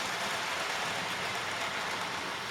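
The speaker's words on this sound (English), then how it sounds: "So we've got trains running again" Model railway trains running on a loft layout, a steady broadband rumble and rush of wheels on track that holds an even level throughout with no talk.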